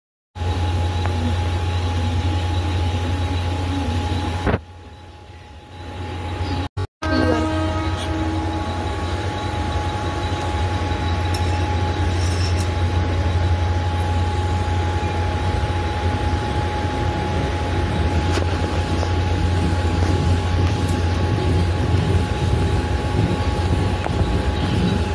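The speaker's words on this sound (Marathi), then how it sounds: "हे बघा ट्रेन आता स्लो झाली आणि थांबली पण." A Western Railway local train on the Dadar–Virar line rumbles steadily, with a brief drop in noise and a sharp clunk as it halts, then builds back into a continuous rolling roar with faint wheel squeals.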